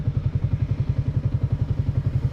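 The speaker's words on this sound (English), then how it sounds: "the bike is so much fun, it's so light and flickable" A Yamaha MT-125 motorcycle fitted with a GPR exhaust, heard while riding, producing a loud, close, rhythmic pulsing engine drone with steady throbbing beats and no speech.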